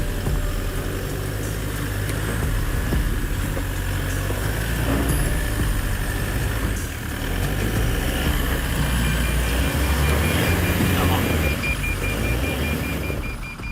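Toyota HiLux GR engine labouring at low revs while the 4x4 crawls up an off-road bank, a steady close rumble with slight surges and no talk.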